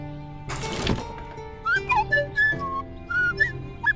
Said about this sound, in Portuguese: Os NPCs eles não falam, né? Eles ficam assobiando igual uma flauta alucinada.